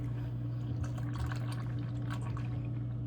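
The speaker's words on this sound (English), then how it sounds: "I'm gonna pour in the milk, and 6 cups is usually this whole thing." Milk being poured steadily from a large jug into a dish for an Oreo cookie dessert, a soft continuous liquid trickle over a low background hum, with no talk.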